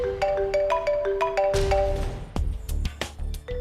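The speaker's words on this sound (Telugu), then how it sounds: "ఆలియా చూడు, ఫోన్ ఎవరిదో? ఏదైనా ఇంపార్టెంట్ ఫోన్ అయి ఉండొచ్చు." A mobile phone rings indoors with a repeating melodic ringtone of bright tonal notes, giving way to clattering knocks and scuffs in a drama scene.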